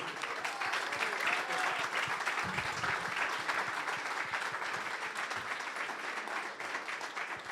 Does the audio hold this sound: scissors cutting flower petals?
no